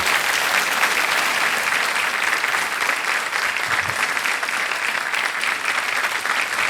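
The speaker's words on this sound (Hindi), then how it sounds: "तालियां बजती रहें इनके लिए।" Studio audience at a quiz show keeps clapping, a dense, steady wash of loud applause with no speech.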